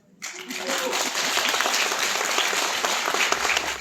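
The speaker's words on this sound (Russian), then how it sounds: "Еще раз аплодисменты." Audience applause at a cosmetics industry event fills the room, a dense steady wash of clapping that starts abruptly and holds at an even level for several seconds, with faint voices mixed in.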